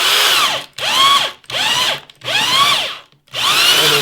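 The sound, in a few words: drill bit boring into wood log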